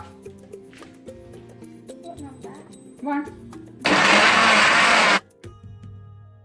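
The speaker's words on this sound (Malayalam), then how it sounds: "ഇതൊന്ന് ബ്ലെൻഡ് ചെയ്തെടുത്തു." An electric mixer jar blends watermelon into a milkshake in one loud, steady whir of about a second and a half, which then cuts off abruptly. Quieter kitchen sounds and voices come before it.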